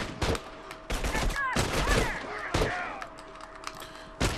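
Gunfire in the video game The Last of Us, sharp bursts of shots in quick clusters with a few isolated cracks, fairly close, and some speech-like sounds mixed in.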